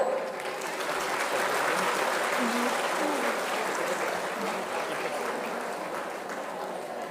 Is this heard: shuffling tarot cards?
no